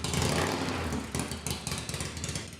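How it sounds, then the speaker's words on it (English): Motorcycle engine growling steadily at a deep, rough idle with small throttle blips, close and continuous with no talk over it. "To some, that's the guttural growl of a motorcycle"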